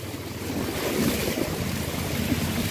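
An electric Joy e-bike rolls through standing water on a road, giving a continuous rushing, sloshing wash mixed with wind buffeting the microphone. The sound is close and steady, with no voices.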